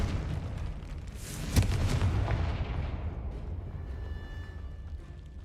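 A Confringo blasting spell explodes in Hogwarts Legacy with a deep booming blast and a sharp crack, then a long rumbling decay that fades over several seconds, loud and close with no talk.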